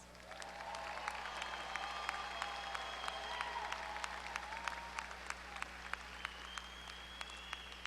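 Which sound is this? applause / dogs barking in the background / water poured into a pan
applause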